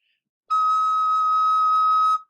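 A single high E recorder note, an octave above low E, played with a half-uncovered hole and held steady for nearly two seconds, clear and pure, played alone with no other sound.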